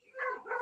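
A dog gives a single short, tonal bark or yelp, close by and alone.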